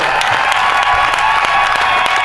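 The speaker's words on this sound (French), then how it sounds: "Applaudissez pour lui, s'il vous plaît." Wedding guests applaud steadily at a civil marriage ceremony at the town hall, a dense, continuous patter of many hands that holds loud and even throughout, with faint cheering mixed in.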